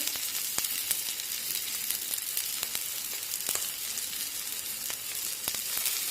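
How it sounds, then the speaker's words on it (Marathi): Cabbage pancake frying in oil in a pan, giving a steady, close sizzle with scattered sharp pops and crackles throughout, no voices. "आता या मिश्रणावर आपण तेल सोडून घेऊया म्हणजे मग यातल्या ज्या भाज्या आहेत त्या भाज्या व्यवस्थित शिजल्या जातील"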